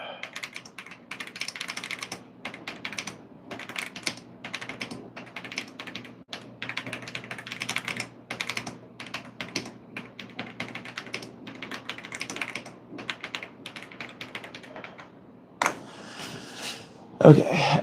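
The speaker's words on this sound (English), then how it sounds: "It's a new keyboard. I'm still getting used to it." Keys clatter on a new computer keyboard in quick, uneven bursts of taps, close and steady for most of the stretch, with a short pause near the end.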